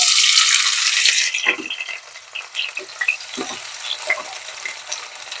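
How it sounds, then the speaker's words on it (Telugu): Finely chopped onions sizzling in fried masala in a pressure cooker over high flame, with strong frying at first and then quieter crackles and stirring scrapes. "ఈ ఉల్లిపాయలన్నీ మంచి కలర్ రావాలండి కలర్ వచ్చే వరకు ఫ్రై చేసుకోవాలి"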